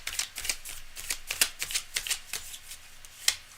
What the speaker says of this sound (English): okay, I'm almost finished shuffling here.